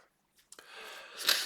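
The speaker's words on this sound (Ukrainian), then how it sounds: "Ой, хочу чихнути" A single close, quiet sneeze from a man in a studio setting, preceded by a brief intake of breath and ending in a sharp, hissy burst.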